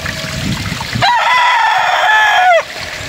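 A White Hatch gamefowl rooster crows once on a game farm, loud and near, in one long harmonic call of about a second and a half, with faint outdoor background around it.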